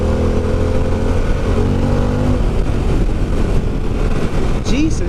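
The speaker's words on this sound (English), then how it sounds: "this bike is extremely fast" A Harley-Davidson Pan American motorcycle accelerates hard, its engine droning loud and climbing in pitch under heavy wind roar.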